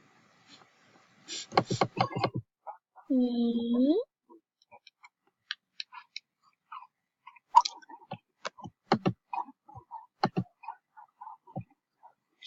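Computer mouse clicks during a Moshi Monsters game, sparse quick ticks scattered through the clip, close and faint, with a short burst of voice and some game sounds in between.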